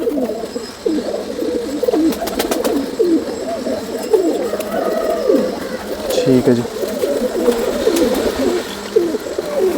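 Large loft pigeons in Jammu and Kashmir coo continuously in rolling low phrases, several birds overlapping nearby, while someone speaks briefly over them.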